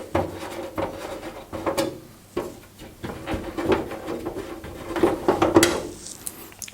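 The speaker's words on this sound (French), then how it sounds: "La porte coulisse pareil, hop, elle se retire facilement" Side door of a Corsair Carbide Air 740 PC case sliding off, with scattered plastic and metal clicks, knocks and scrapes spread over several seconds, close by.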